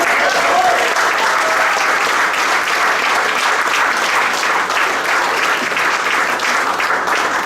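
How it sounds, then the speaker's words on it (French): Audience applause for a silver medal award in international tourism fills the ceremony hall, a steady, loud, even wash of many hands clapping without pause. "on peut l'applaudir, on peut faire aussi"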